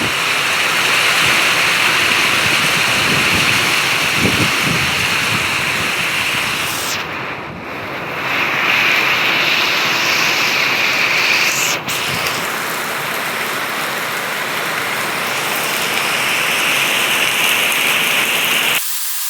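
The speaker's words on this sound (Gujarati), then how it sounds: "અને છાંટા તો જો મિત્રો બહુ મોટા મોટા પડે છે." Heavy rain with big drops and rushing runoff water makes a loud, unbroken roar with wind buffeting the microphone; the roar eases briefly partway through before surging back.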